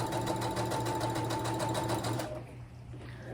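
Sewing machine stitching through fabric, a steady close-up mechanical whir with a fast regular rhythm that runs for about two seconds and then stops, leaving quieter room tone.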